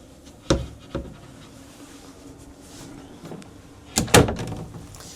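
Cabin door aboard a Greenline 33 boat, giving a couple of soft knocks followed by a sharper clunk and rattle as it opens; close and fairly quiet in a still interior.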